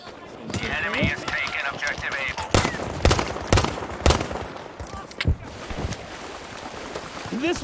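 Sharp pistol shots in Battlefield V, a scattered handful of loud close cracks spaced irregularly over background battle noise and movement.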